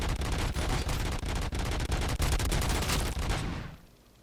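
Sniper fire in a video game: a loud, rapid string of sharp shots cracks at an even pace for about three seconds, then fades away into quiet.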